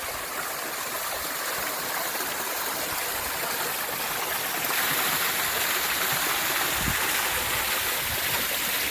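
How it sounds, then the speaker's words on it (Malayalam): Steady rushing stream water at Nilambur teak museum in Kerala, a continuous broadband flow with gentle gurgles, close and even throughout. "വെള്ളം കാടി വരുന്നത്"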